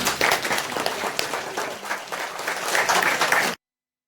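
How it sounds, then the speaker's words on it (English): Steady audience applause fills the room with dense clapping that swells toward the end, then cuts off abruptly. "give her a round of applause"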